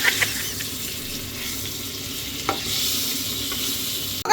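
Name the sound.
hilsa fish frying in oil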